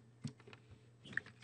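Typing on a computer keyboard while entering turtle graphics commands in Small Basic, a few soft, quiet keystroke clicks spaced irregularly across a very faint background.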